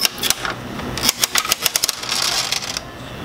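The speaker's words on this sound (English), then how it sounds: "It's the sound of candy coming out" Twisting the knob of a candy vending machine, a rapid run of clicky ratcheting and rattling as candy drops out, close and fairly loud, followed by a softer rustling clatter.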